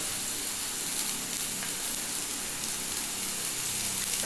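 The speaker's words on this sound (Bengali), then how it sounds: "এটাকে আগে পেঁয়াজটাকে হালকা একটু ভেজে নিচ্ছি।" Sliced onions fry in a hot pan for egg momo filling, giving a steady, close, continuous sizzle with soft crackling and no voices.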